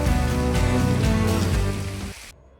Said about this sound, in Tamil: மழை பெஞ்சிட்டு இருக்கு, நல்ல மழை.